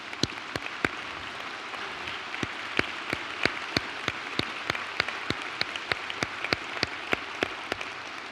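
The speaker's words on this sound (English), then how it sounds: "I would ask George to stand so we can say thank you with a rousing round of applause." Applause for a university official at a State of the University address, heard as a steady wash of clapping punctuated by sharp, regular claps, moderately distant and without talk.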